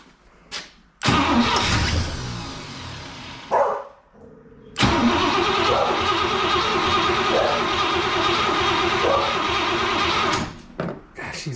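Car engine fast-idling roughly after a carburetor adjustment, loud and close, with surging revs that rise and fall and a brief stumble near the start, running alone without talk.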